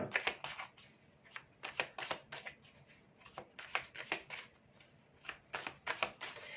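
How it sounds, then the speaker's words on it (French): A deck of tarot cards is shuffled by hand in repeated quick riffling bursts, each a crisp flutter of card edges. It is close and continuous, with no talk over it. "on va remettre des cartes"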